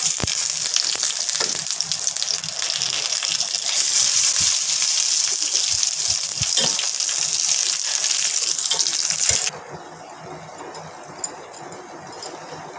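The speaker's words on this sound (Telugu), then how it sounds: "ఆయిల్ వేసుకుందాం పోపు కోసం. పోపు దినుసులు, ఎండుమిరపకాయలు, ఆవాలు, మెంతులు, ఇంగువ," Dried chillies, mustard seeds and fenugreek tempering in hot oil for tomato rasam, crackling in a loud, dense sizzle that runs steadily, then drops sharply to a faint spatter with occasional pops.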